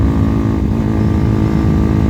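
A Megelli 250r motorcycle engine revving steadily while climbing a hill, a loud continuous drone with heavy rumble and wind.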